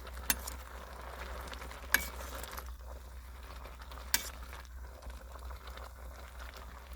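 Kangkong cooks in a pot with a steady bubbling simmer and a low hum, broken by three sharp clinks of a utensil against the pan as it is stirred.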